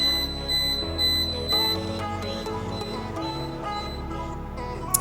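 A cooking timer rings as carrots finish cooking, a steady high electronic ringing tone that repeats across the whole stretch over faint kitchen background, with no talk.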